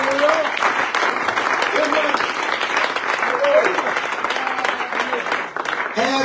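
Church congregation applauding during a revival service, sustained dense clapping from a crowd with a voice speaking over it throughout.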